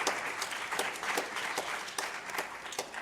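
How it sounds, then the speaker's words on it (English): An audience at a concert applauds steadily, dense clapping from a crowd continuing evenly throughout. "Let's have another round of applause"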